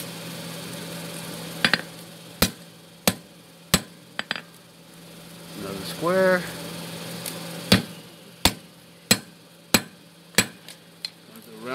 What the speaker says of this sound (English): Put a square on the anvil, use a round surface of your hammer.